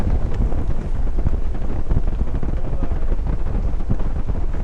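Steady wind gusting at a lakeside beach at Silver Lake, British Columbia, with high tide, roaring continuously into the microphone with low rumbling buffets and no voices.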